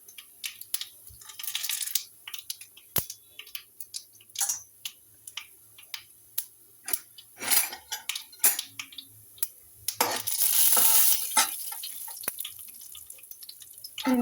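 Urad dal roasts in oil in a pan while being stirred, giving sparse, sharp clicks and taps of utensil on metal with occasional soft crackles and a brief denser burst near the end. No one speaks.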